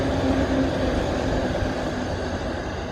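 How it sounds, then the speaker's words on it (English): A train passes close by outdoors, giving a loud, steady rumble and rail noise that runs through the whole stretch with no talk over it. "I don't know if you can still hear me with the train"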